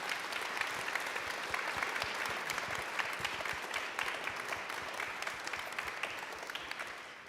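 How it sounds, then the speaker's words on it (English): Warm applause from a conference audience in Manchester, steady dense clapping throughout at a constant level with no speech over it. "giving them a big, warm Manchester round of applause"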